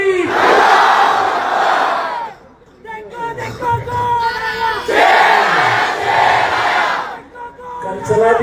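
A large crowd at an AIMIM public meeting in Maharashtra roars back in unison to slogan chants, with two loud, surging waves of shouting separated by a brief lull of scattered voices.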